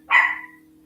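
A single sharp dog bark, fairly close and loud, with a steady low hum underneath.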